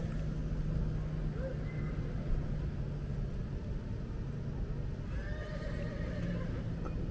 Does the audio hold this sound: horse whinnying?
yes